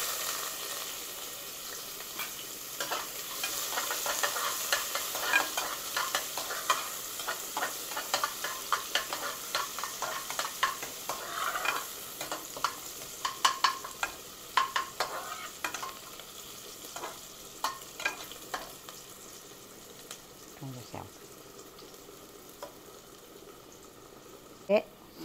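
Onions sizzle gently in a pan for South Indian ghee rice, cooked with whole spices such as cloves, cinnamon and cardamom, while a spoon stirs and scrapes with irregular clatters throughout. Someone speaks intermittently.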